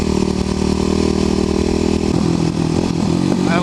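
A Kawasaki KLX250SF single-cylinder dual-sport motorcycle engine drones steadily and close while riding slowly, with a throbbing low hum and a shift in tone partway through as the revs change.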